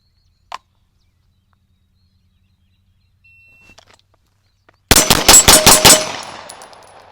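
Tisas 1911A1 9mm pistol fired at a range, a loud rapid string of about six close shots with ringing decay, after a few quiet clicks and handling sounds.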